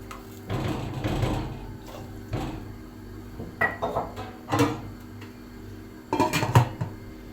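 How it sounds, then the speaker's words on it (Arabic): Dishes are washed in a home kitchen sink, with plates, pots and cutlery clinking and clattering in irregular close bursts over running water, with no talking. "عندي بقى شويه المواعين دول، يعني قلت اغسلهم"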